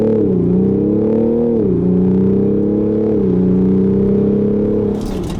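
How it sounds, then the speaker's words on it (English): A 2017 BMW X5 M50d diesel accelerating hard from a launch control start on a German autobahn, heard from inside as a loud, steady engine drone rising in pitch between gear shifts. "Push the brake, gas, now you see the flag, launch control."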